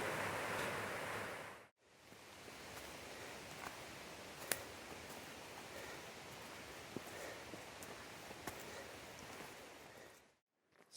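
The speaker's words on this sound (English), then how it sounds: "you're going to have a stream tumbling and cascading down beside the trail" A mountain stream tumbling and cascading beside a trail in the Smokies, heard as steady broadband rushing water, close and continuous, with a few faint clicks and no voices.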